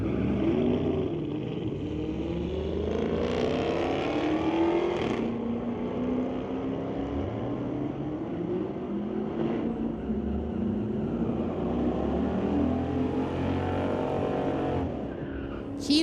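A 1962 Falcon and a 2008 Charger SRT launch down a drag strip, engines roaring and revving through gear changes with rising and falling pitch, loud and sustained for the whole run, tire noise mixed in, no talk heard.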